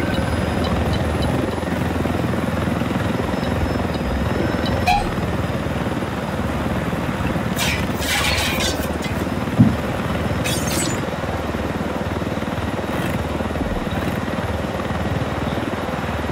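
A helicopter in a video game drones steadily and loudly throughout, its rotor and engine hum constant, with a few brief clicks and bursts of higher noise over it.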